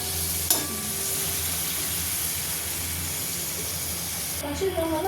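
Potatoes coated with turmeric frying in plenty of oil for a mutton and potato curry: a continuous soft sizzle and hiss with occasional stirring clinks, fairly quiet throughout.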